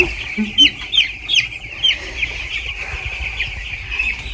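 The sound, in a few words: chicks chirping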